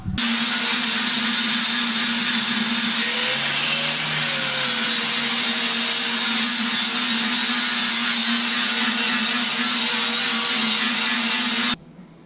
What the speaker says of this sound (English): get these welds ground down on the top so I can get my get this thing cleaned up and painted